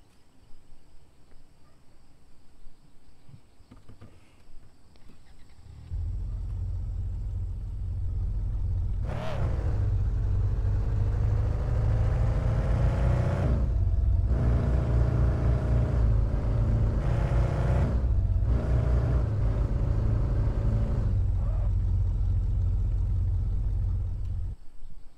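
A car engine in the driving game Car For Sale rumbles steadily as the car is driven, low and loud with a rising whine as it revs and shifts, continuing without any talk.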